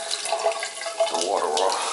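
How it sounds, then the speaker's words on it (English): Water drains and rushes through a house's plumbing at a first-floor fixture, a steady near hiss and gurgle with no voice over it. "I'm just draining the water out."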